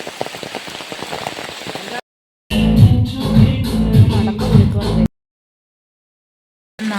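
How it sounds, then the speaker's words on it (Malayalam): Heavy rain pours down in a monsoon-season downpour, a dense, close hiss of drops striking surfaces. It comes in bursts broken by abrupt silences, with a brief voice near the start. "ഇപ്പം നേരത്തെ മഴയില്ലായിരുന്നു, ഇപ്പം നല്ല മഴ പെയ്യുന്നുണ്ട്."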